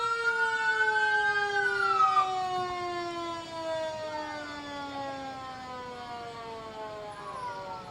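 A fire truck siren from the Oliver Springs Fire Department wails steadily, its rising and falling tone sweeping continuously and fairly loud, with no talk.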